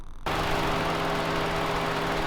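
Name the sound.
car engine running, possible engine mount noise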